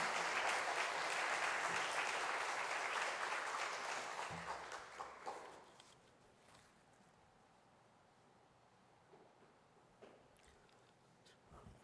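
A church congregation gives loud, sustained applause welcoming a pastor at a Friday prayer meeting; the clapping fades out around the middle, leaving a quiet room with a few faint knocks.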